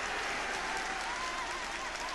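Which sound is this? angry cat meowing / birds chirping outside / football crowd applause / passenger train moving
football crowd applause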